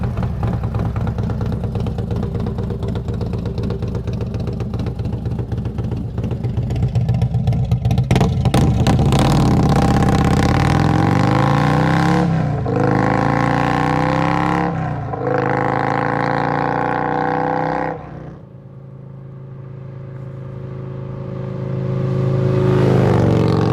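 Harley-Davidson with a TAB Performance exhaust and upgraded cam, revving hard several times in loud close bursts over a rumbling idle, then settling back to a lower idle before climbing again.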